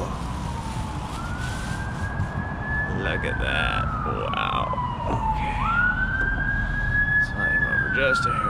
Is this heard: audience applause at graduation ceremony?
no